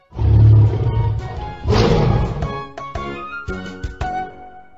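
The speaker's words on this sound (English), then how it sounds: "Lion." A lion gives a loud, deep roar up close, followed by a second long roar and a string of shorter grunting calls fading out, with no voices.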